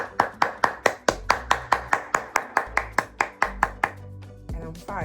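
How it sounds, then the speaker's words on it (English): One person claps their hands steadily, around seventeen crisp, evenly spaced claps close by, after a netball injury that is now six weeks into healing, ending with a short pause and a light shuffle. "Right now I'm 6 weeks and I can clap"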